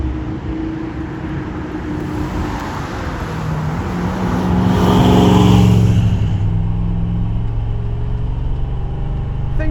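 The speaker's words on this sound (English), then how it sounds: "Listen to that engine." A big-block 1973 El Camino SS engine running as a steady low drone, swelling louder near the middle as it pulls, then easing back, heard from close by without speech.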